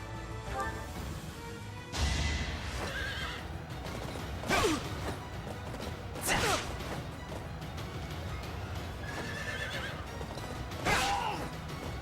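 Several loud horse whinnies over steady hoofbeats and clanking in Fire Emblem: Three Houses, with crashes mixed in, continuous throughout.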